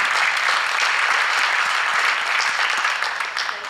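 Audience applause at a Visual and Performing Arts Wall of Fame induction ceremony, greeting a former second-grade teacher in the crowd; dense, loud, continuous clapping that holds steady throughout and eases slightly at the end.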